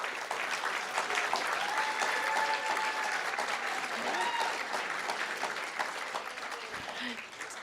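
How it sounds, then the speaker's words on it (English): Audience at a school district board of trustees meeting applauds students and parents, a dense, steady round of clapping lasting several seconds with crowd murmur underneath. "Let's give them a round of applause."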